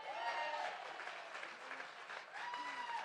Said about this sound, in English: Can you give my son Duke a round of applause?